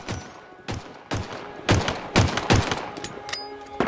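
Pistol shots ring out in a quick, irregular series of sharp cracks in Halo Infinite, loud and close with a little game ambience between them.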